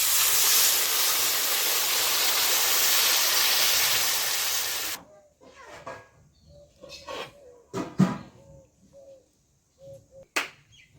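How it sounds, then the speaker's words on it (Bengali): Water is poured into a hot pan while a boal fish curry cooks, with potato, brinjal and lentil badi, making a loud steady hissing burst of steam for about five seconds, then faint bubbling and a few soft knocks. "এখন দিয়ে দিচ্ছি পরিমাণ মতো জল।"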